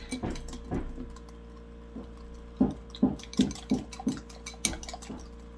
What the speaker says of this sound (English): All right, so just use your whisk.